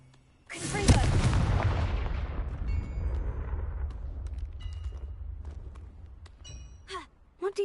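A Confringo fire spell blast from the Hogwarts Legacy video game bursts out as a loud, close explosive boom with a rumbling tail that fades over several seconds, followed by fainter magical sparkles.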